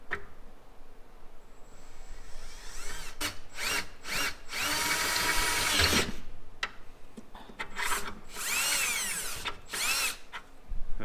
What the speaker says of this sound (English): we just drilled out this hole here to a slightly larger diameter